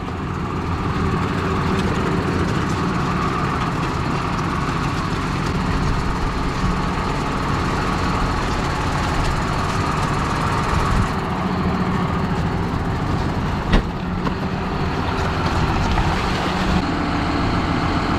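Tractor engine running while being driven on a farm, a steady rumbling drone that holds nearly constant for the whole stretch, close by, with no talking.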